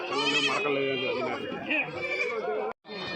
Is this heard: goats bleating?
yes